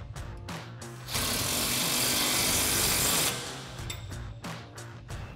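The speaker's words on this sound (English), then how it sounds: "again with our 15mm socket on our impact" Impact wrench with a 15mm socket on a swivel adapter spinning U-bolt nuts on a 2021-2024 Ford F-150 during a leveling kit install, one loud burst of about two seconds between quieter clicks and handling sounds.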